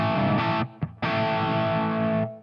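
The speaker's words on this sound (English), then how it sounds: "this should be our nice dry fat crunch" Thick, dry crunchy electric guitar chords through a Marshall MG100FX amp ring out loud and sustained, with a brief choked gap before another long strummed chord.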